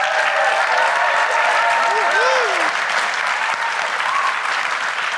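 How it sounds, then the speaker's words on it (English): A live audience at a health event in Los Angeles claps and cheers in a loud, continuous wash of applause, with a few whoops and shouted voices rising briefly above the steady roar. "round of applause for my man"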